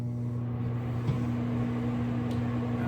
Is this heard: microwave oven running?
yes